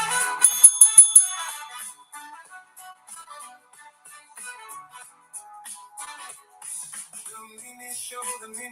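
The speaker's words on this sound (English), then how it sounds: "the bell is all about the Mimi Show. And it says, ring for a beer" A small bell, labelled ring for a beer, gives a few bright rings near the start, then fainter scattered high chimes and jingles follow.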